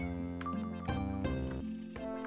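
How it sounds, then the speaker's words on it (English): An odd, warbling phone ring from Yume 2kki repeats in short tonal chimes that shift pitch every half second or so, steady and clear with nothing else over it. "The phone sounded a bit strange there,"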